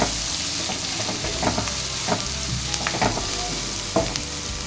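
Onions sauté in a pan, a continuous close sizzle broken by soft scraping stirs and light clicks of a spatula against the metal at irregular intervals, no voices.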